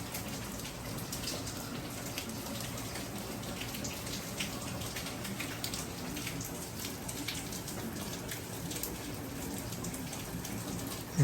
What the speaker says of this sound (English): Finally getting some rain